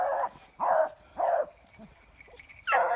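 Beagle hunting dogs give several loud, close barks in a steady rhythm, about one every half second with short gaps, while pushing through briar thickets outdoors. Faint insect buzzing runs underneath.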